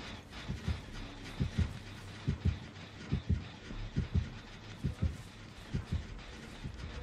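Killer heartbeat terror radius in the Dead by Daylight video game: low, paired thuds repeating steadily in a double-beat rhythm over faint in-game ambience, with no speech.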